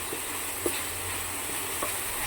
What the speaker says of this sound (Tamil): பச்சை வாசனைலாம் போகிற வரைக்கும் நல்லா வதக்கணும்.